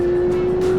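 A Porsche 911 GT3 with a catback exhaust on a race track holds a loud, steady engine tone close up, a brief sustained burst under hard running.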